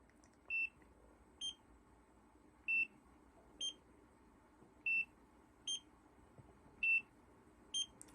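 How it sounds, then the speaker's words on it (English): A Nira precision laser skin device gives eight short, clear electronic beeps in evenly spaced pairs, sharp and close against a quiet background. "The first beep tells you that the laser is starting."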